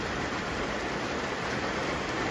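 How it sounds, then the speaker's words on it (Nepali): Heavy rain pours outside a homestay, a dense even rushing hiss with no distinct drops, steady and moderately loud, no voices heard. "यस्तो पानी पऱ्यो गाइस कसरी जानु होला अब"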